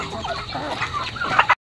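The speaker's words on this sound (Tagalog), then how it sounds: "Nagpaparami din kami ng mga alagang manok." Farm chickens kept for breeding cluck and squawk in a busy, close chorus of short overlapping calls, ending abruptly.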